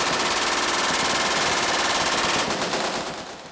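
Sustained automatic fire from machine guns at a large outdoor machine gun shoot, loud and continuous with rapid overlapping bursts, fading slightly at the end.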